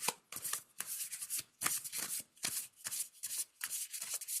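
A deck of playing cards being shuffled at a tabletop, a run of quick riffling bursts with short pauses between them, close and clear, with no talking.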